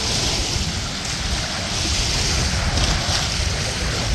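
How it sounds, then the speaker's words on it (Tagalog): Strong waves break along the Manila Bay shore in steady, roaring surf under gusting wind, a continuous close wash of water with no voices over it. "medyo malakas yung alon ngayon dito"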